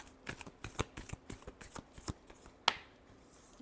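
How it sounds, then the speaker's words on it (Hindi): Tarot cards being shuffled for a reading, a rapid run of soft riffling flicks and taps up close, ending in one sharper snap, with no talk. "Last shuffle."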